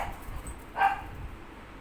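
A single dog bark rings out briefly near the middle, fairly close but modest in level, over a quiet indoor background with no talking.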